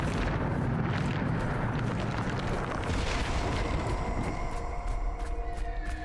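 A Bombarda spell blast in Hogwarts Legacy rumbles loud and close, a dense booming explosion with crackling debris that fills the whole stretch, its roar slowly thinning into ringing tones toward the end.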